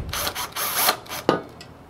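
Supplied machine screws are driven into a slide mounting bracket while installing a blind corner cabinet unit. Close, rasping mechanical bursts sound in quick succession, ending with a sharper single scrape.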